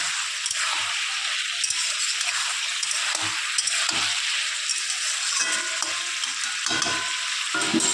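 Vegetables fry in a pan with a constant bright hissing sizzle throughout, occasional low clicks and knocks of utensils underneath, no talking.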